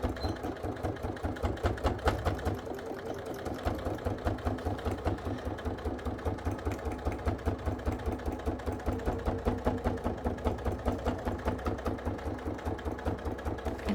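A sewing machine stitches a faux leather iPad bag, a steady, rapid needle beat running close and continuously the whole time with only a brief dip in pace early on.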